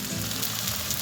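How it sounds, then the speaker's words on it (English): Seafood paella sizzles and crackles gently in a hot pan, a soft continuous frying hiss heard up close. "You can hear the kind of sizzle of it cooking."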